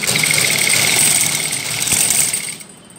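A sewing machine stitches a sleeve seam, running loud and close in a fast, steady mechanical whir, then stops near the end.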